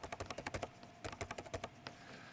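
Fingers typing an envelope ID on a computer keyboard: a quick run of crisp, close key clicks, a brief pause, then a second burst and one last tap.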